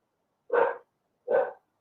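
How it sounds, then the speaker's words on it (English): A big dog gives two deep, separate barks about a second apart, clear and isolated against silence. "Somebody got a big dog."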